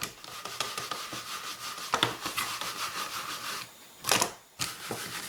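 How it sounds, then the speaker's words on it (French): A daisy-pattern rubber stamp being rubbed clean, giving soft, scratchy brushing strokes in short irregular bursts with a couple of louder swipes near the end. "je vais juste nettoyer mon tampon marguerite avant de l'utiliser"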